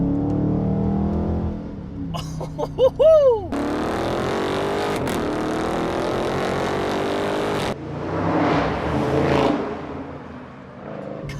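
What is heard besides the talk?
muscle car factory exhaust revving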